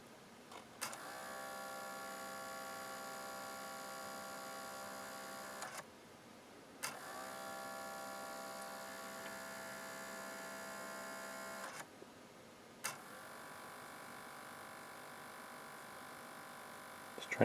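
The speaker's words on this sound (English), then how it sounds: "You can hear the motor is making quite a bit of racket." The laser and disc motor of a faulty NAD L53 DVD receiver runs noisily, giving a buzzing whine with a harsh tonal edge. It plays in three long stretches, each starting with a click and separated by brief quiet gaps.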